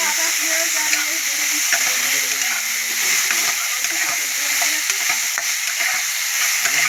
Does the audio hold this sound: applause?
no